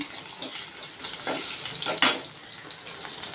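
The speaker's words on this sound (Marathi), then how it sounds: "थोडासा कढीपत्ता परतून चांगली तेलावर परतून घ्यायची" Curry leaves frying in hot oil in a pan give a steady, soft sizzling hiss, with one sharp, louder spatter burst partway through.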